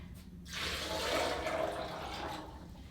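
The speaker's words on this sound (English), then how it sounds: "I'm gonna add 4 cups of like room temperature or cold water." Cold or room-temperature water pours steadily into a blender holding a cup of almonds, a continuous splashing rush that builds after a brief quiet start and carries on close and alone.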